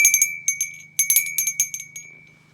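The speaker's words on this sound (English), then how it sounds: "And then, of course, I got my bell." A small hand bell rung in quick bursts of bright metallic rings, clustered strikes with short pauses, close and clear with no talking.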